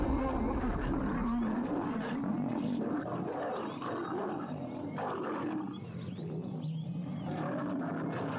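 A wild male lion roars in a long, deep, rumbling growl that holds steady for several seconds, loud and close, with wind and ambient noise of the savanna around it.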